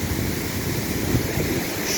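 Kuşkaya waterfall near Kışlacık, Kırklareli, rushes in a constant, loud, broadband roar heard from the rocky cliff opposite, mixed with some wind buffeting.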